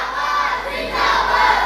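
A large crowd at a religious gathering roars a chanted slogan in unison, a loud sustained mass of voices shouting together, swelling slightly toward the end.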